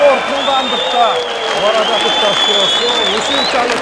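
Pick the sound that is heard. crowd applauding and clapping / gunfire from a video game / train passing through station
crowd applauding and clapping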